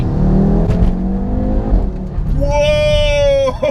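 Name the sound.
hybrid turbo Audi RS3 8P car accelerating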